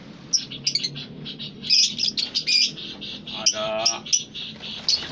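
Many caged birds in a busy aviary, chirping and tweeting in quick, bright bursts close by, layered over one another, with a voice speaking at times beneath the calls.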